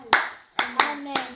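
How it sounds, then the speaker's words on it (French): Church congregation clapping along to a French hymn, four sharp hand claps in an uneven rhythm, moderately close. "Applaudissons pour le Seigneur. Alléluia."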